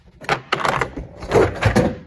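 A stiff drawer on a tool chest scrapes and grinds open in several jerky pulls, close by, with no talking.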